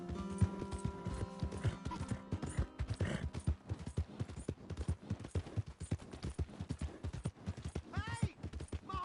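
Horse hooves clip-clopping in a video game, a quick, regular run of sharp hoof strikes over several seconds, with brief tonal game sounds and a whinny-like call near the end.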